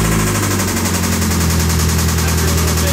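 A Mazda Miata engine with rod knock runs loud and close, a rapid, continuous mechanical knocking that hammers on steadily with no talking.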